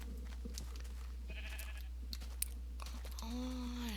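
Sheep bleat in the Minecraft video game, with a couple of short synthetic bleats and a louder, drawn-out one near the end over faint game sounds.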